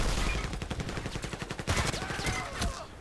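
Rapid automatic fire from an AKS-74u in a first-person shooter video game, a steady close burst of sharp repeated shots running for about three seconds with no talking over it.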